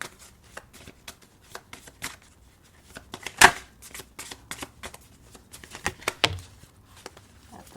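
Tarot cards shuffled and drawn in a steady run of papery riffling and soft slaps, with one louder snap partway through, fairly close and heard alone.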